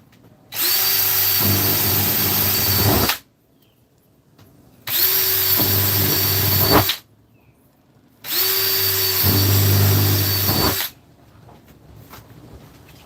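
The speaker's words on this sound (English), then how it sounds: "I'm gonna keep drilling." A power drill whirs loudly in three sustained bursts of a few seconds each, separated by short quiet gaps, drilling out rivets on an Airstream trailer endcap.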